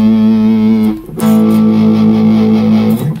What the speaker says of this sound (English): Fuzz is kind of similar to an overdrive or distortion, but it doesn't sound exactly the same.